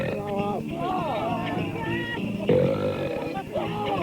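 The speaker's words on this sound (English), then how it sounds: "guys do belch better than women, don't they?" A man lets out a long, drawn-out belch, loud and close, with pitch slides and a second burst partway through, alongside voices in a talk-radio studio.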